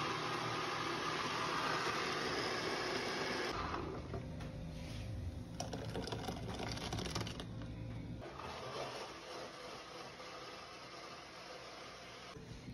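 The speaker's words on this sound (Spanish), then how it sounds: "Aquí le puse poquita agua, pero se le pone leche y lo voy a licuar." Electric blender whirring as it blends coconut with a little water, a steady loud motor drone that shifts in pitch partway through as the contents churn, with no talking.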